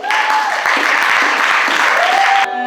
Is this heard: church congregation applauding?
yes